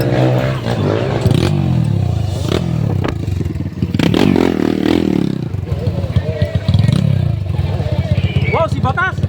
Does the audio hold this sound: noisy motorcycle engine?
yes